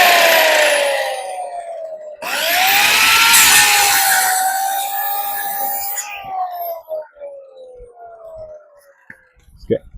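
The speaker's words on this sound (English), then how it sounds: "Excuse the noise. I know I got this mic with this saw" A loud power saw whines through wood in a long high cut, then winds down into scattered knocks and rustling.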